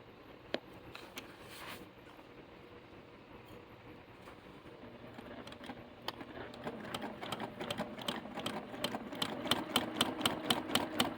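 A sewing machine runs in rapid, rhythmic needle bursts during free-motion quilting. It starts faint and sparse, then builds into a fast, steady clatter that grows louder toward the end.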